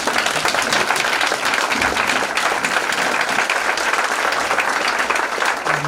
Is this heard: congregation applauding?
yes